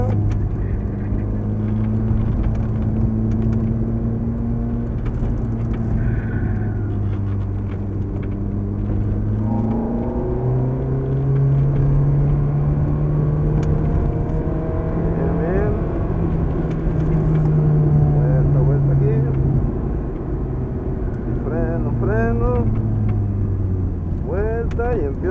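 An exotic sports car in Cancun accelerates hard, its engine note climbing through rising gear pulls over a constant loud rumble of road and wind, with a person talking over it.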